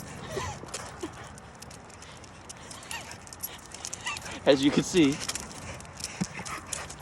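A large dog of about 60 pounds whimpers and yips close by in a burst of short whines, with someone talking nearby before and around the sounds.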